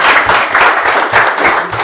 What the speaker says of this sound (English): A round of applause for a good man.